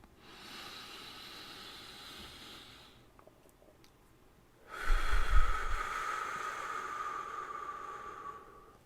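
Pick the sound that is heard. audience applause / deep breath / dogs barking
deep breath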